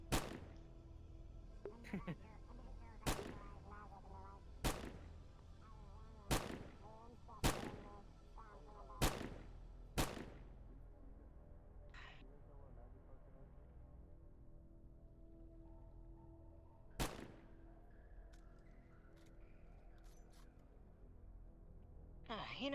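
Pistol gunfire at a makeshift shooting range near hot springs in a video game: a run of loud, sharp single shots at a steady rhythm, then a long pause and one last shot, with faint background tones.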